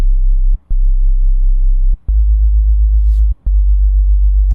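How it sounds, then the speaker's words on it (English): Synthesized sub bass with detuned layers for a chill drum and bass loop, deep pure sustained tones in a few long held notes with short breaks, loud and alone. "that's a really cool sub bass, one of the best ones I've made, I think."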